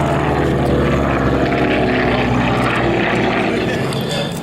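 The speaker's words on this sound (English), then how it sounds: "Radial engines, the sound of round." A radial-engine propeller aircraft, of a type whose design dates to 1937, roars past at an airshow, a loud sustained droning engine note with a steady throb that eases slightly toward the end.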